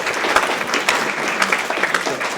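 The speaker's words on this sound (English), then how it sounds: "Round of applause." An audience at a business event applauds a team after a group photo, giving a brief burst of dense, lively clapping with a few sharper claps standing out.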